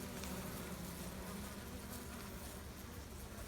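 A swarm of honeybees hums around a big hive, a faint, steady, continuous buzz throughout.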